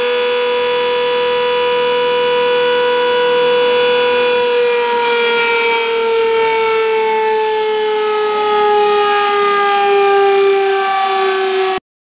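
Brazilian civil defense siren wailing loud and steady with a rich layered tone that slowly dips in pitch, holding for about twelve seconds before cutting off abruptly.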